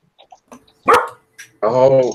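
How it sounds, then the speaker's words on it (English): A dog barks close by in a casual indoor chat, a couple of short sharp yaps followed by a longer, loud harmonic bark-like whine near the end, with faint bits of sound between. "That was the dog."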